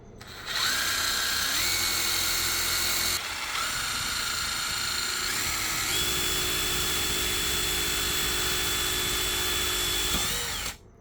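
A power drill fitted with a diamond drill bit whines loudly as it bores through material, its pitch stepping up and down several times before it cuts off abruptly near the end.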